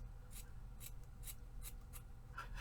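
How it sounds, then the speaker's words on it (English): Scissors snip thread into tiny confetti pieces, a quiet, close series of about six evenly spaced cuts over a low background hum. "I will cut them more like confetti. Let's cut the whole pile up."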